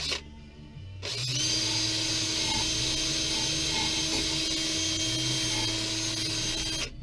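A power drill spins a polishing wheel against aluminum rocker boxes, a loud steady whirring grind that holds for several seconds after a brief spin-up, close and continuous with no talk.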